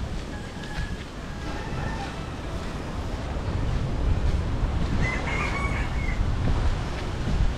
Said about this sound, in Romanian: Cocoș în junglă, da. Cocoș sălbatic.